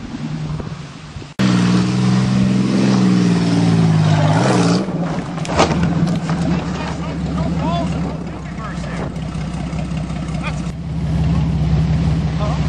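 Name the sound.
Buick Century car engine accelerating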